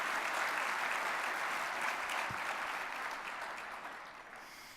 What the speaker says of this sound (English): how about a community round of applause for all these volunteers and employees